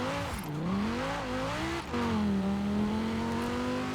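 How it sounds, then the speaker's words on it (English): In Forza Horizon 4, a Cadillac limo's engine revs loud and close, the pitch climbing twice, dropping off briefly, then settling into a steady high drone. "This is one of the engines in this game that actually still sound quite good."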